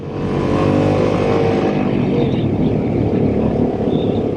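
A Harley-Davidson Sportster S motorcycle engine roars steadily and loudly at close range while riding, holding a constant drone throughout with no talking.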